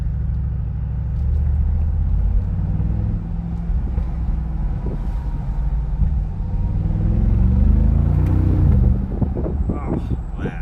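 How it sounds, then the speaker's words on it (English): A 2019 Mercedes-AMG G63 V8's deep, steady grumble from its side-mounted exhaust rumbles throughout, rising slightly in intensity toward the end, with a few faint voices underneath. "you can just hear that deep present grumble from the side mounted exhaust"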